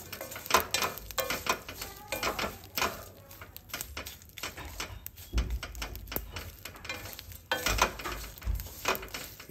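Dried prawns fry and get stirred in a pan, with a spatula scraping and clanking against metal in irregular close bursts over a faint sizzle.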